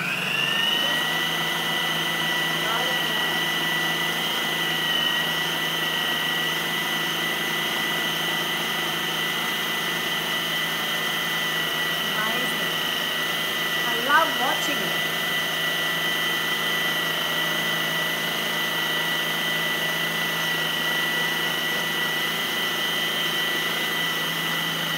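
A Magimix food processor fitted with the Spiral Expert spiralizes a zucchini, its motor a steady high-pitched whine that holds constant throughout, with faint scraping and a brief click midway.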